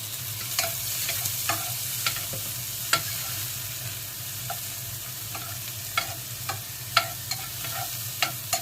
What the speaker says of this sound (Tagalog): Umpisa natin ng bawang. Umpisa natin ng kamatis.